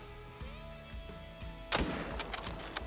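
A rifle shot at a roe deer in theHunter: Call of the Wild cracks out partway through over quiet game ambience and tonal hums, then echoes into scattered rumbling decay.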